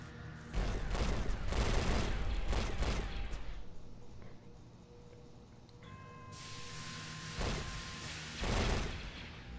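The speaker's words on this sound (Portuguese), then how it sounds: "Aqui agora eu já posso parar de atirar esse míssil, economizar munição." Missile fire aimed at the Spidera in the space game Shortest Trip to Earth: a loud, continuous barrage of rapid launches and blasts over a steady hiss, surging in waves, with no talking.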